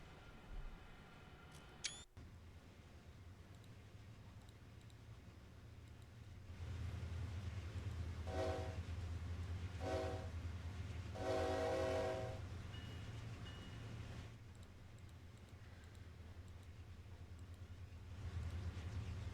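Diesel locomotive climbing Horseshoe Curve between Johnstown and Altoona in Train Sim World 2, a steady engine rumble with one short sharp click early, then several blasts of the train horn in a burst pattern midway.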